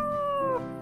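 A single drawn-out domestic cat meow, tonal and clear, holds steady and then slides downward at the end, heard close and alone with no talk.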